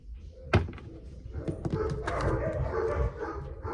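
Several dogs bark in sharp bursts, with one loud bark early and more yelps and whines scattered over a busy background.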